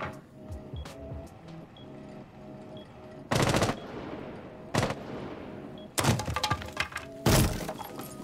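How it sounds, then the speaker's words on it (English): Rainbow Six Siege gunfire shoots out window glass: several sharp bursts of rapid shots, each with a bright crack and shattering, separated by quieter gaps, close and loud. "just go up to a window and then shoot a few times at the window, and as you can see, the glass is going to break"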